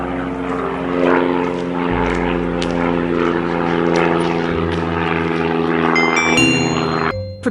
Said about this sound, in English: A propeller plane can fly!